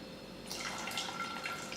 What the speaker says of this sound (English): I'm going to add some water to dilute it.